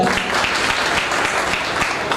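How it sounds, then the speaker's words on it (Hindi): An audience at an annual function gives a dense, steady round of clapping that carries at even loudness throughout, with faint voices blended into the crowd. "एक बार उसके लिए ताली हो जाए"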